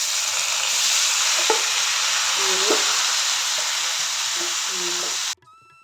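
Dried red chillies sizzle loudly and steadily in a hot pan for Onam cabbage thoran, with a few light stirring scrapes before the sound cuts off abruptly near the end.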